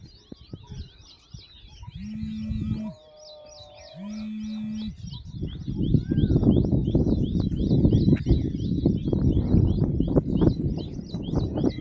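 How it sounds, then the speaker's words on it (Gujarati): Birds sing on a rural village farm in the monsoon season, with steady high chirping and tweeting throughout, under short electronic tones early on and a rising wash of outdoor noise later. "જો પક્ષીઓ મસ્ત બોલે છે."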